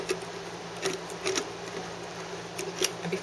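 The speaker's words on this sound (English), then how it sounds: "we're going to place our mandrel in here and turn it down so it tightens" A jump ringer mandrel being turned and tightened, a series of faint squeaky metallic clicks and ratchety ticks at an irregular pace over a soft constant hum.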